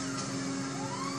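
Police car siren in Grand Theft Auto 5, a steady wailing tone rising through continuous engine and traffic noise from the game, moderately loud and unbroken.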